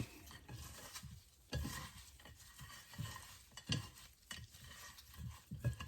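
Dried shrimp are tossed with Cajun seasoning in a bowl, giving quiet, rhythmic wet scrapes and soft slaps of stirring, repeated about once a second, with no voices.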